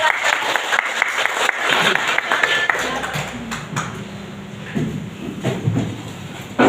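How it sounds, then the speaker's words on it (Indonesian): Children in a Pancasila civics classroom clap after singing Garuda Pancasila, a loud dense burst of applause up front that thins out and fades under scattered voices and classroom noise. "hafal semua, beri tepuk tangan"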